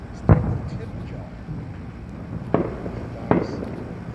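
Local Fourth of July fireworks in Las Vegas: three distant booms spaced a few seconds apart, heard outdoors over a steady background rumble and crowd noise.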